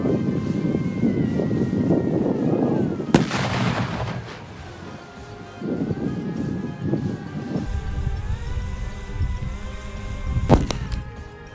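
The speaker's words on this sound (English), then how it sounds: "last, but not least, blast is a 1 kg stick of TNT" A 1 kg stick of TNT detonating against a pumpkin in an outdoor blast test: one sharp, loud broadband crack, followed by rolling rumble and distant echoes, with a lower tone droning underneath throughout.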